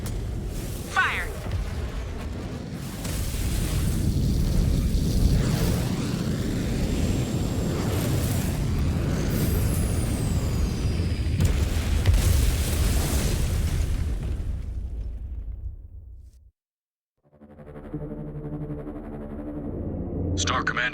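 Heavy mech weapons fire and rumbling explosions as Gazelle 319 is shot down in MechWarrior 5: Clans, a loud sustained barrage that cuts out abruptly to near silence, then tonal game sounds resume.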